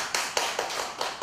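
Audience applause at a coaching certification lecture, a short burst of rapid hand claps filling the room, fairly close and steady with no talking over it.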